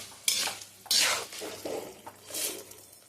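Dried red chillies fry in a pan, with a few sharp bursts of stirring and metal scraping over a soft, low sizzle.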